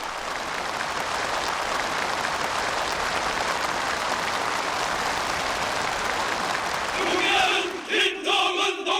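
Enthusiastic applause from participants at a North Korean assembly in honor of Kim Jong Un, a loud, dense, sustained roar of clapping and crowd noise that cuts into rhythmic music near the end.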